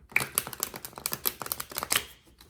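Tarot cards being shuffled by hand close up, a quick run of crisp papery riffles and flicks with a few sharper snaps, steady and busy for a couple of seconds with no talking.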